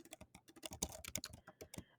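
Keys clatter on a computer keyboard in a quick, uneven burst of close, crisp clicks, with brief pauses between runs of keystrokes and no voices.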